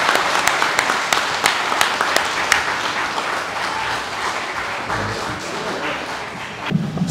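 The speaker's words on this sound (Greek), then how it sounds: "Του οφείλουμε όλοι ένα χειροκρότημα για αυτή τη φαντασία." An audience applauds a poem contest winner, sustained crowd clapping with a dense steady patter that eases slightly toward the end.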